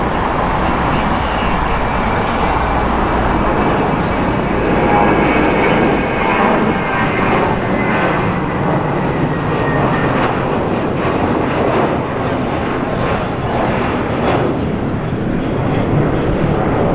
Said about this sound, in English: The Cathay Pacific 777-300ER.